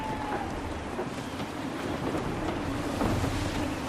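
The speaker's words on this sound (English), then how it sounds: "Gusty winds can be difficult to manage." Strong gusty wind roars over open sea in Assassin's Creed III, a dense continuous rushing wash with surging gusts aboard a sailing ship.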